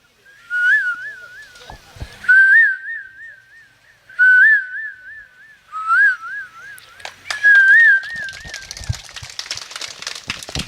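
A performer at a stage mimicry show whistles an imitation of a koel's call, with several rising, warbling phrases separated by short pauses, followed by a burst of clapping and crowd noise toward the end.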